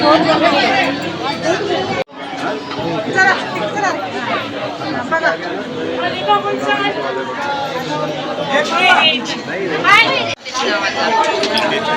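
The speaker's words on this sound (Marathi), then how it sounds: "ती भरपूर गर्दी आहे आज महालक्ष्मीला" A dense crowd of devotees at the Mahalaxmi temple fills the air with a loud, steady babble of many voices talking at once, close and continuous, with two brief dropouts.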